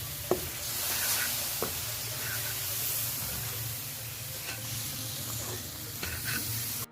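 Semolina laddu mixture with a splash of milk cooks in a pan, a soft continuous sizzle with occasional stirring scrapes and taps, close and without talk.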